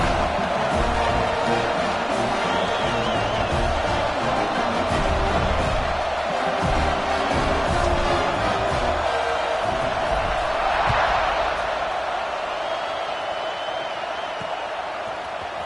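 A stadium crowd in a college football video game roars steadily as a kickoff approaches, a dense, continuous wash of cheering and whooping that stays loud throughout, with faint commentary beneath.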